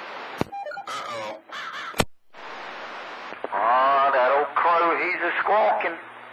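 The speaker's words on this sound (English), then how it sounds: "Sound like I hear a crow out there" Over a crackly radio channel, a crow in Bakersfield, California caws several times in harsh, rapid bursts, heard distantly through the transmission along with clicks.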